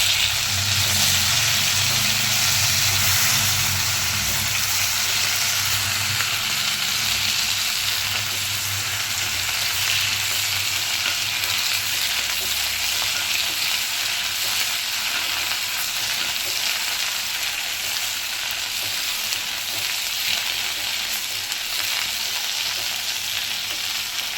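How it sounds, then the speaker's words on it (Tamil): Fresh curry leaves sauté in hot oil in a pan for a Tamil curry-leaf kuzhambu, giving a steady, loud, continuous sizzle and crackle that runs unbroken from start to finish with no talking. "நல்லா ஒரு கப்பு கருவேப்பிலை சேர்த்துக்கலாம் இதே கொஞ்சம் நல்லா வதக்கி"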